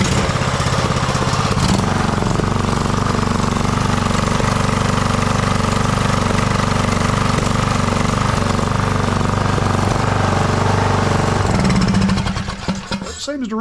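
Briggs and Stratton engine on a Craftsman YTS3000 riding tractor, which has a dirty Nikki carburetor, running loud and steady at close range with a rough, chugging idle for about twelve seconds before it cuts off.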